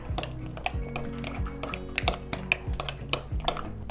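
Sour cream, cream cheese and Greek seasoning are stirred in a bowl, with a utensil ticking and clinking against the sides in a quick, steady rhythm, fairly quiet.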